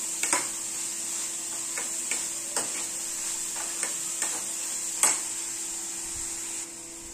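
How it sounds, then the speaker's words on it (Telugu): Boiled corn kernels fry in hot oil for spicy corn, giving a steady close sizzle with scattered sharp pops and ticks of kernels and a spoon against the pan. "ఆయిల్లో బాయిల్ చేసిన కార్న్ వేసుకుని ఇలా వేయించుకోవాలి."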